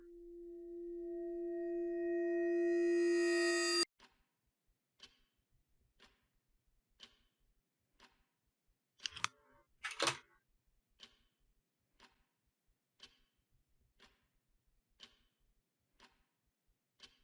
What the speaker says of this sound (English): the sound of a clock ticking